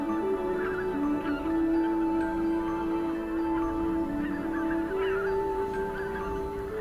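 A large mixed flock of bean, greater white-fronted, greylag and Canada geese honks without pause at a stopover site in Poland. Many overlapping calls form a dense outdoor chorus, with no talking.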